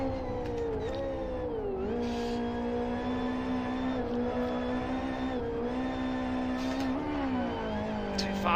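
Racing cars in the Live for Speed simulator roar continuously in a multiplayer race, engine pitch rising and dipping with gear changes and throttle, loud and steady throughout with faint voices underneath.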